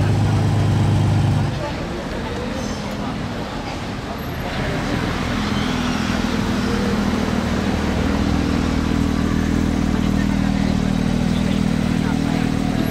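A Ferrari Testarossa cruising slowly past the casino square in Monaco, its engine a deep steady rumble that swells and holds loud and close amid street crowd noise.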